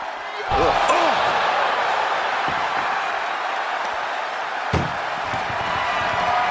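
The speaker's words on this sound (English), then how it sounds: "They slammed the door." Ambulance door slams shut with a sharp bang during a wrestling ambulance match, under the constant roar of the arena crowd and a commentator talking, with a fainter thud earlier.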